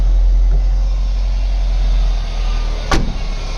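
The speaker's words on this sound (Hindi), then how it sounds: "देखिए गाड़ी इंजन स्टार्ट है और हम रेस लेते हैं।" A Mahindra BS6 CNG pickup with a fault runs at a loud, steady low engine drone, near and alone, with a short sharp click late on and no talk over it.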